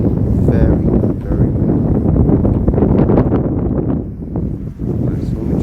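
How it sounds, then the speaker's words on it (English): Heavy night wind buffets the microphone in a loud, continuous roar with gusting surges, while a small DJI Mini 4K drone flies overhead; someone talks over it. "It's very windy, very windy."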